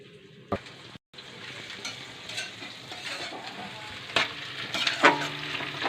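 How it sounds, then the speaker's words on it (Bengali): Onions fry in a pan with bay leaf, dried red chillies and whole cumin, giving a steady close sizzle broken by sharp scrapes and clicks as a spatula stirs them. No voices are heard. "পেঁয়াজটা আমার ভালো ভাজা হয়ে গেছে"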